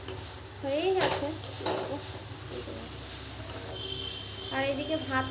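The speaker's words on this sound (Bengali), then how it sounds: "দেখো আমার শাকটা প্রায় ভাজা হয়ে আসছে" Leafy greens fry in oil in a wok, giving a continuous close sizzle with soft stirring scrapes while someone talks over it.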